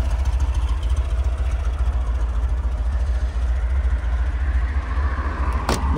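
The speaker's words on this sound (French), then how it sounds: "je vais aller couper le moteur" A 1977 Volkswagen Combi T2b Deluxe engine idles with a steady, deep, rumbling drone, close and loud, unbroken for the whole stretch, with a brief click near the end.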